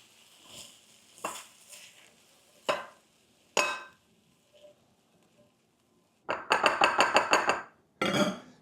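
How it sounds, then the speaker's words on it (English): A utensil stirs food around a pan, sounding as scattered scrapes and knocks that grow into a quick cluster of clinking strikes near the end, fairly close and with no voices. "Stir it all in together"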